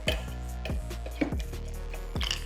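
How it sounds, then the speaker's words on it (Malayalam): Half a lemon is muddled with raspberries in a glass for an Indian arrack drink, giving close, wet squishing presses and small drips in a steady rhythm. "ഒരു ഹാഫ് ലെമണും കൂടെ എടുക്കുകയാണേ. ഇതൊന്ന് മഡ്ല് ചെയ്ത് എടുക്കാവേ."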